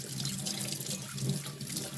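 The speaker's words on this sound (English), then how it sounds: "you're just gonna rinse it off" Nail clippers held under a running kitchen tap, a steady close splash of water pouring and spattering for the whole stretch with no talk.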